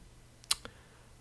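Two quick computer mouse clicks while using a video editing program, a sharp close click followed a moment later by a softer one over quiet room tone.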